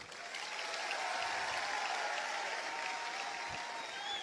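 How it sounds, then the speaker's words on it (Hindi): Sustained audience applause at a gathering, a steady dense wash of many hands clapping that holds at an even level throughout with no break. "इस चीज पे तालियां मैं चाहता हूं आपसे"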